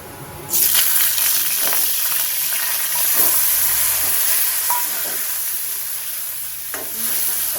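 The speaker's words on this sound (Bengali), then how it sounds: "চিংড়ি মাছটা গ্যাস জোর করে ভাজবো" Large prawns fry in a pan over high gas heat, giving a loud, steady sizzle and hiss that starts abruptly, with occasional stirring clinks and no talk.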